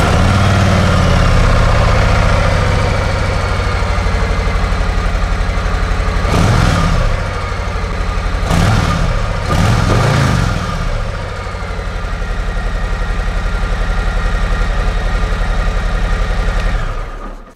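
A motorcycle on its stock exhaust idles steadily after a cold start, a loud, constant low rumble throughout with a few brief blips partway through.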